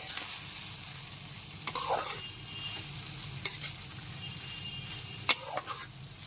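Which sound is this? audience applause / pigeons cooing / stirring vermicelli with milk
stirring vermicelli with milk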